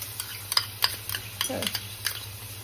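Beaten yogurt is stirred into dum aloo gravy in a pan, a soft simmering sizzle with a series of close utensil clinks and scrapes against the pan, and a brief murmur of voice.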